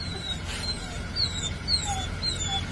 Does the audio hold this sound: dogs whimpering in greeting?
yes